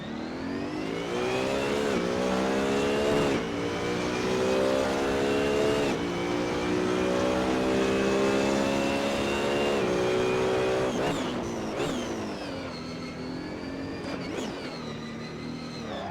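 A race car engine in a career-mode racing video game roars steadily and close, climbing in pitch through successive gear shifts with brief dips between them, alone without talk.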